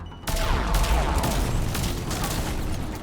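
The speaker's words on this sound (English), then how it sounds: "That's the harvester shooting at us." A Harvester enemy in the video game Mass Effect 3 fires a rapid, continuous barrage of booming shots, dense and loud throughout.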